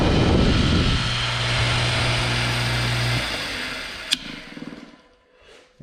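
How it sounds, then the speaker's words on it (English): A 36-year-old outboard boat motor, freshly fitted with a new front bearing, runs loudly for a few seconds, then a sharp click, sputters and winds down to near silence before a brief restart. "We're gonna test run this motor and see how she sounds."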